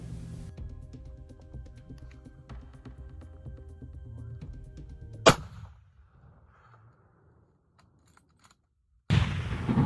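A single sharp rifle shot cracks out during a Barbary sheep hunt in New Mexico, loud and close, after a stretch of quiet outdoor background and followed by near silence.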